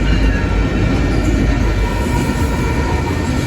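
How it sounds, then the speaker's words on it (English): A train rumbles past close by a wayside horn, heavy low roar with rattling wheels and faint sustained tones above. "This train horn is a wayside horn"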